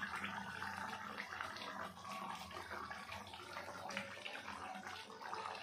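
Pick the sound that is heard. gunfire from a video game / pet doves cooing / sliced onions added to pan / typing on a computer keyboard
sliced onions added to pan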